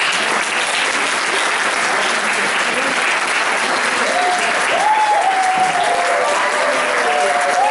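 Audience at a school forum theatre performance in a technical high school applauds loudly and steadily, a dense wash of clapping with faint voices and a few shouts rising through it.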